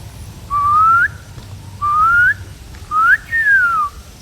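A person whistles an imitation of a bird call: three clear, close whistled phrases with rising slides and a longer falling tail on the last, separated by short pauses.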